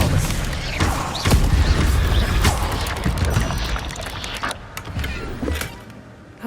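Spell effects in the Hogwarts Legacy video game, an Incendio fire burst and an Expelliarmus disarming charm, sounding as loud whooshing blasts and thumps over a dense, busy combat mix.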